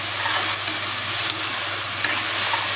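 Ginger garlic paste sizzles steadily in hot oil in a pan for a lamb lung fry, a continuous close frying hiss with a couple of faint stirring scrapes and no talk.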